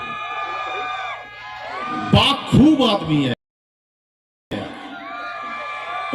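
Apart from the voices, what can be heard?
audience cheering and shouting with joy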